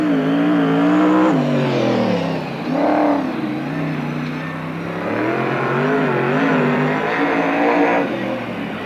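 A sprint car with a 360 motor and a John Boy chassis roars loudly and close on a racetrack at a NARC sprint car race in Marysville, California, its engine revving up and down continuously for several seconds.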